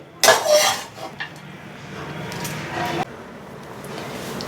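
Coconut rice scooped onto a plate, with a sharp metallic clink of a spoon against the dish, a few softer scrapes and knocks, then a quiet steady background.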